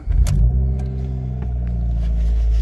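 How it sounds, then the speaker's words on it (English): A car engine cranks and catches with a brief loud burst, then settles into a steady low idle rumble, heard up close with no talking. "Starting the car up right now."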